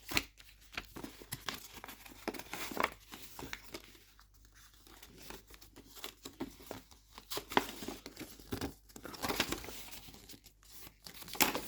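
Paper crinkles and rustles softly in scattered, irregular bursts as a sheet is folded and its creases are pressed down to make a pop-up card, close by and quiet, with no voices.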